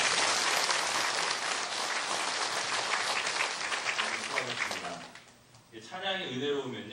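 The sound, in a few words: congregation applause in church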